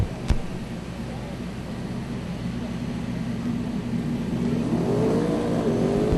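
A 1998 Ford Mustang twin-turbo drag car runs at a drag racing event, its engine a steady, loud roar that swells slightly toward the end, with a faint rising whine near the close.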